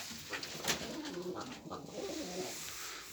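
Pigeons cooing steadily in a backyard coop, a close, continuous chorus of soft overlapping coos with rustling, and no talk.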